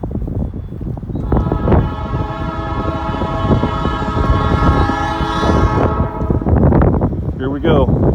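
Locomotive air horns play a tune like Jingle Bells, long sustained harmonic blasts from a freight train climbing a hill over rusty rails, loud and close with rumbling rail noise throughout.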